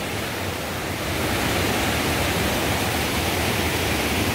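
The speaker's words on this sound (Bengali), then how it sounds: "এরপর রয়েছে এই যে জলগুলো নামছে" Water rushing down a mountain stream below a waterfall near Mussoorie, a dense steady roar that swells slightly after the first second and holds loud and unbroken, no voices.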